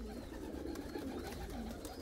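A flock of about a hundred white pigeons coos in a steady, low, overlapping murmur, close and continuous, with soft wing and shuffling noise mixed in.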